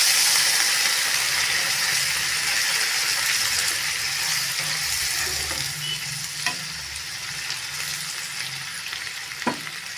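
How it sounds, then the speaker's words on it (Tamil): Water is added to a pan of beans cooking for poriyal, and the loud sizzle of frying swells and then settles into a bubbling hiss, with a few light utensil knocks toward the end. "காய் வேகிற அளவுக்கு தண்ணி சேர்த்துக்கலாங்க."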